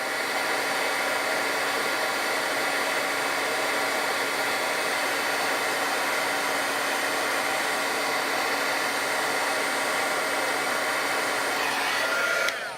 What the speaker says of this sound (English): my Wagner heat tool has arrived